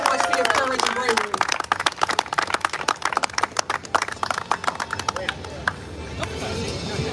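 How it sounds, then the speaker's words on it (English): Applause and clapping from a crowd at an outdoor Ex-Jehovah's Witness protest rally, a dense run of hand claps rising and thinning over several seconds amid crowd murmur and cheering. "Let's give Ash another round of applause."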